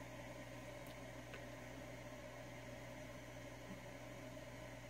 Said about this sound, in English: this is going to be an FM radio, just tuned to a dead spot in the band